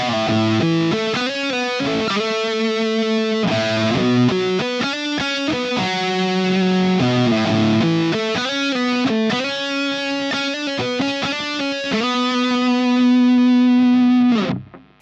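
Distorted electric guitar lead through an ENGL Powerball II amp on the neck pickup with a mid boost and no reverb: a loud, sustained melodic line of held notes and quick runs, played alone, ending with a sudden cutoff.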